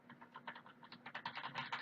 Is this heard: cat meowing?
no